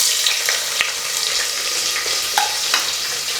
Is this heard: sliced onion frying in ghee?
yes